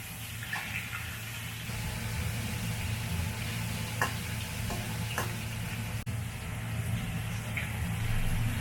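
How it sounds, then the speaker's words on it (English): Pork pieces are stir-fried in a wok for red-braised pork, giving a continuous close sizzle with a low steady hum beneath and a few sharp scrapes and taps of the spatula. "We just stir fry all of them, make sure the surface looks very beautiful golden"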